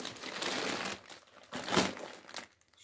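Potting soil scooped by hand from a 20 kg plastic bag into a basin, a close, dry rustle of crinkling plastic and crumbling earth in bursts, with one sharper crunch near the end before it fades.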